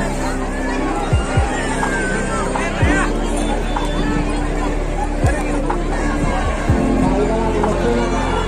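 A large crowd of pilgrims murmurs at the Sant Kurmudas Maharaj temple during the Ashadhi Wari festival, a dense, steady babble of many voices with occasional nearby thumps.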